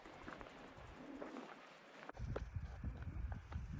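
A bird calls outdoors in Yellowstone, a few soft cooing notes over rustling wind noise, with a sharper burst of nearby handling or movement halfway through.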